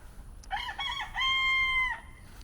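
A rooster named Hank crows once, clear and fairly close, a two-part call on a property with a rainwater system, with faint background hiss and no talking.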